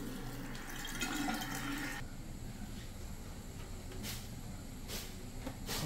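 Water running from a brand-new bathroom tap at a riverside campsite, a faint, steady hiss and splash that shifts character partway through, with a few brief louder bursts.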